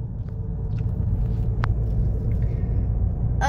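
A car on the road, a steady low rumble of engine and tyres heard from inside, with a few faint clicks and a brief higher whine over the continuous drone.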